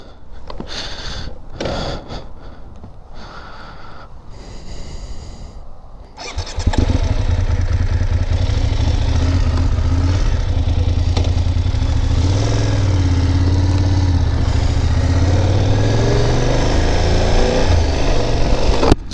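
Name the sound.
BMW F 800 GS 2025 motorcycle engine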